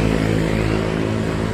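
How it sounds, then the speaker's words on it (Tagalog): Racing motorcycles at a road race give off a loud, steady, buzzing engine drone at close range, with no break in the noise. "Nauuna yung mga motor."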